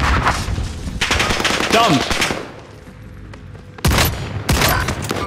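Dense video game gunfire, rapid automatic bursts up close in two loud volleys separated by a quieter stretch, with a voice shouting briefly.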